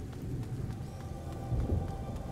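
A stormy scene in the video game A Plague Tale: Innocence, with steady rain pattering and low rumbling thunder swelling toward the end, moderately loud with no voices.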